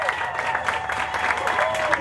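A convention crowd at a comic fest claps and cheers to welcome a cosplay guest, dense applause mixed with whoops and crowd voices throughout, continuous and moderately loud.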